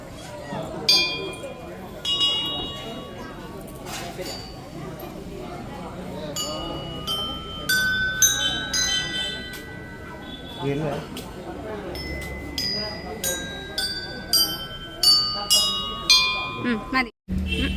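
Small bells ring and clink repeatedly at a temple-like gathering, bright scattered strikes and lingering tones sounding under steady nearby talk and shuffling.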